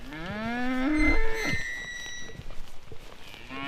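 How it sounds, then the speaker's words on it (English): Normandy dairy cows in a paddock on a South Otago farm moo loudly and close by, one long rising and falling call followed by quieter lowing and background shuffling. "Now over the fence are some of your lovely looking Normandy cows."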